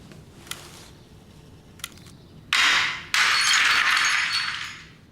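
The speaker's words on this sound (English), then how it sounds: "Now that sounds to me like the window in the back door being smashed." The glass window in a back door smashes in two loud bursts, a sharp crash followed by a longer shattering spill of shards, after a couple of faint clinks in an otherwise quiet room.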